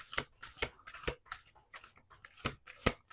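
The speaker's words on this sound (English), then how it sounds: "One more shuffle." A deck of cards being shuffled by hand indoors, a series of quick crisp riffles and snaps in an irregular rhythm, close and fairly quiet.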